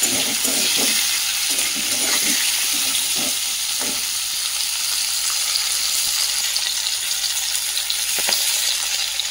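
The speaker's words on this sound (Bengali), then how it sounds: "শিম আর আলুটাকে দিয়ে ভালো করে লাল লাল করে ভেজে নিই" Flat beans and potatoes fry in a pan with a continuous close sizzle, occasional stirring knocks and scrapes breaking through the hiss.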